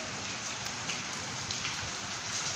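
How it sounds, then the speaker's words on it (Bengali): Heavy rain falling steadily during days of flooding that have submerged homes and roads, a dense, even hiss with faint patter, no voices. "প্রচুর বৃষ্টি হচ্ছে, ওয়েদার ভীষণ খারাপ"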